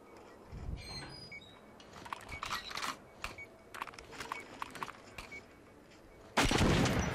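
Gunfire from a gun in the video game Metro Last Light: a string of sharp, scattered shots over a quiet, murky background, then a loud, dense burst of noise at the end.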